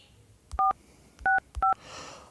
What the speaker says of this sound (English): Then I will start typing the number.